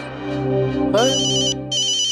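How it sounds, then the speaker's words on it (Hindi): An electronic ringtone chirps in bright, repeating bursts, loud and close, with a short gap before it sounds again. "घंटी फोन की है।"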